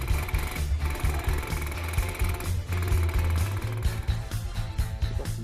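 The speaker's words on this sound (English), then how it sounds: "With the micro-percussion technology, the tip of a tungsten carbide stylus generates the character by a succession of dots." A Multi4 electromagnetic micro-percussion dot marking machine drives its tungsten carbide stylus in a rapid, steady mechanical chatter of dots, loud and close with brief pauses between bursts, and no voices.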